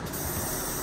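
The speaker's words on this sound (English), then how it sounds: "you're gonna wanna spray a little bit of brake cleaner on it to get it clean" Brake cleaner sprays from an aerosol can onto a brake part in one continuous, close, loud hiss.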